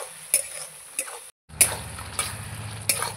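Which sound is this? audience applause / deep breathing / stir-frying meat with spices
stir-frying meat with spices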